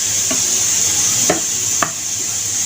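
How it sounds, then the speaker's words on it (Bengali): Eggs fry in hot oil with turmeric, giving a steady loud hiss with a couple of brief spoon clicks against the pan; close and continuous, no voices. "ডিমটাকে ভেজে নিব, তেলের মধ্যে হলুদটা দিয়ে দিলাম"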